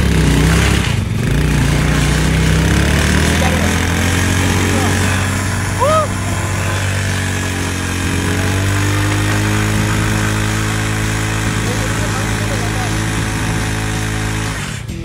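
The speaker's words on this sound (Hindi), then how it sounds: "अब आपका भाई यहाँ से बाइक स्टार्ट करेगा" A motorcycle being started for a burnout stunt, its engine running steadily and loudly up close with a low, continuous drone, while people talk over it.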